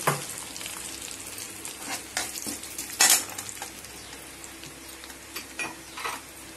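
Mustard seeds, urad dal and cumin crackle and sizzle in hot oil for a sambar tempering, a steady close frying hiss broken by scattered pops and a sharp spatter burst near the middle, with no talking.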